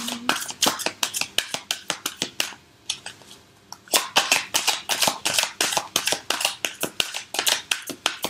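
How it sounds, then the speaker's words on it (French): A tarot deck being cut and shuffled by hand, a steady run of crisp riffling card snaps and flutters, close and clear, with a short pause midway and no talking. "On va couper un peu le jeu disparate."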